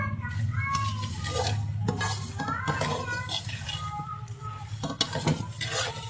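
Grated coconut is stirred into melted sugar in a pan for turmeric halwa, giving a soft sizzle with scraping and clinking of a spoon against the pan, while a voice and higher background voices are heard.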